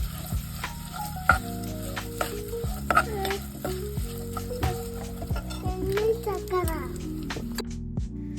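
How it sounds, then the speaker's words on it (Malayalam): Raisins being stirred into a date pickle in a pan, soft spoon scrapes and light clicks under steady tonal background music. "ഉണക്കമുന്തിരി ഇട്ട് കൊടുക്കുക എന്നിട്ട് ഒന്ന് നല്ലോണം മിക്സ് ചെയ്ത് കൊടുക്കുക"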